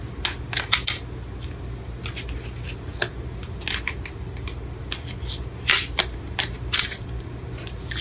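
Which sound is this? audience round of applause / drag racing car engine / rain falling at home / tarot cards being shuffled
tarot cards being shuffled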